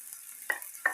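Onion frying in a pan as the base for a soup roux, with two short, close stirring scrapes over a faint sizzle.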